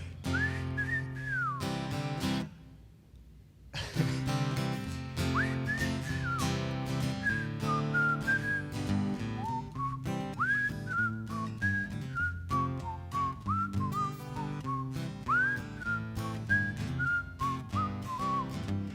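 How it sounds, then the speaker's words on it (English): Members of an audience whistle the Andy Griffith Show theme song together, a bright, clear tune with rising and falling phrases that carries on for many seconds. There is a short pause near the start, and no talk. "I heard some of you whistling out there."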